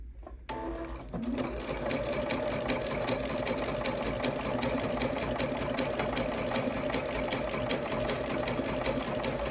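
A sewing machine zigzag stitches around a rope bowl, starting after a brief pause and then running continuously with a fast, close mechanical whir and rapid needle clatter.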